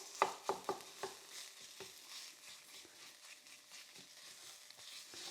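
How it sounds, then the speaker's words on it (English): Tomato paste browns in a pan for lasagna with a steady, soft sizzle. Several light scraping taps from stirring come early on, heard close with no talking. "And just like the onions, we're browning that tomato paste."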